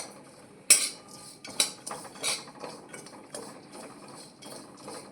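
Grated coconut and dry fruits roast in a dry pan, heard as repeated metallic clinks and scrapes of a spoon against the pan at an uneven pace, fairly close and without any sizzle.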